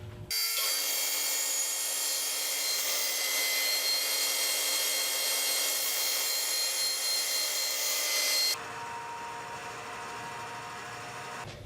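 A band saw with a half-inch, 8-teeth-per-inch blade cutting slowly through wood: a loud, steady, close-up grinding rasp for about eight seconds, then dropping to the quieter hum of the saw running free.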